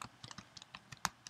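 A web address is typed on a computer keyboard: a quick, irregular run of soft key clicks close up, with one sharper keystroke near the end.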